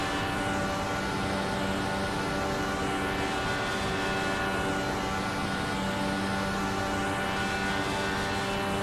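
Race car engine screaming at steady high revs around Talladega in a racing video game, a continuous loud drone with stacked harmonic whine and little variation, no voices.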